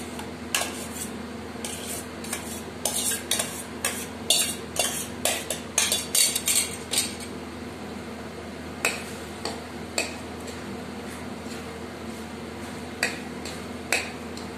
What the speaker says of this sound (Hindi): इसे लगातार चलाते हुए 2-3 मिनट तक पकाएं